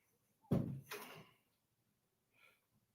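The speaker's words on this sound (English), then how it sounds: "Close my door all the way." A door is pushed shut in one quick, close thud with a brief rattle, followed by a faint bump a moment later in an otherwise quiet room.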